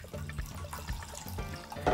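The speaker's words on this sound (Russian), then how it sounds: "Добавляю сюда 150 мл воды." About 150 ml of water poured into a mixture of soy sauce and 9% table vinegar for homemade teriyaki sauce, a steady close splashing trickle with soft gurgling and a brief louder gush at the end.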